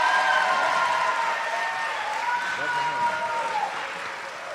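A large audience applauds to welcome Dave Chappelle, a dense sustained wash of clapping and crowd noise with a few shouts, slowly fading toward the end.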